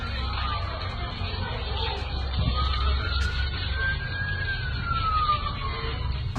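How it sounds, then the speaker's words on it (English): A siren wails in the distance, its pitch rising and falling in a slow sweep over steady background rumble. "Sounds of sirens."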